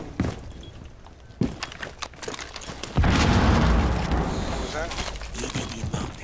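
A wall-breaching explosion in Rainbow Six Siege, set in a skyscraper, booms loudly midway and rumbles on for several seconds, after scattered footsteps and voices talking over the game.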